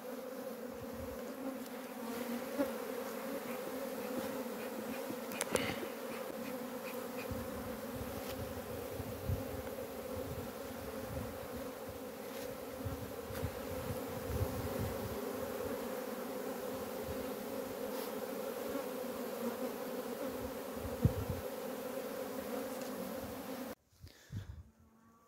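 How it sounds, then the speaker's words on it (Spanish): Wild bees buzz in a steady, dense drone while being transferred from their wild nest into a brood box, close and continuous, with a few louder passes near the microphone and a brief handling knock at the end. "de trasladar todas las abejas"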